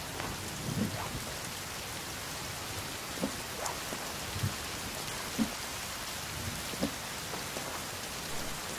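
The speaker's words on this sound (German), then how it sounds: "Es regnet, sehr schön." Steady rain pours in the survival game The Forest, a dense even hiss with a few soft low thumps scattered through it, with no voices.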